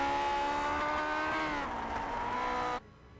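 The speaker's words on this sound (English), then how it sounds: "Take a listen as he revs that engine towards the stripe." A race car engine in the Grand Prix Legends racing game at Silverstone revs hard and steadily with a rising pitch, then cuts off abruptly near the end.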